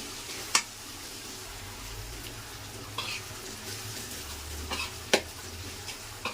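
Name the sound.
stirring chopped spring onion greens in frying pan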